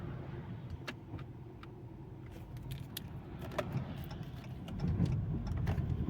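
Low engine hum and road rumble from inside a moving car with an automatic transmission, with small rattles and clicks scattered throughout; no talking.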